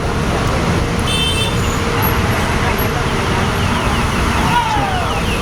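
Road traffic on a Saturday morning in Cubao near the Baliwag Transit terminal, a loud, constant rumble of engines with a faint horn toot and a passing whine, while someone talks nearby.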